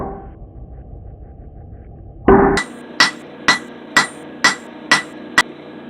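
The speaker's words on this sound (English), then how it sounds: "On the last few strikes, I was using the ball on this ball peen hammer." A ball peen hammer strikes metal with sharp ringing clanks while forging a Damascus knife from cable: one heavy blow, then six evenly spaced taps in a steady rhythm, loud and close.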